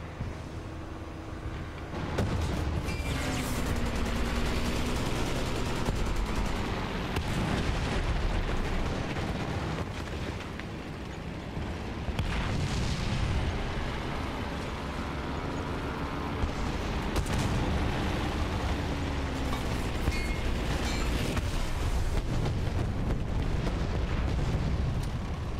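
Heavy booming blasts from an artillery strike in War Thunder during a Japanese tank battle roll in repeatedly, deep rumbling explosions layered over a continuous low engine drone, loud and sustained.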